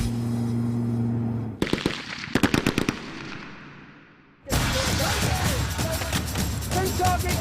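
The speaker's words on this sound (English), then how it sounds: "what you can hear in the background, that awesome sound that's kicking off now, is some of the heaviest weaponry" A 40mm grenade machine gun fires in a rapid string of sharp, heavy blasts that fade out, then a dense burst of loud firing and explosions follows on a military range with 3 Commando Brigade, close and powerful.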